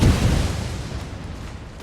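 Grenades detonating in Napoleon: Total War battle on a smoky mountain ridge, a loud low boom at the start that rolls into a dense, sustained rumble of blasts and battlefield noise, no talk.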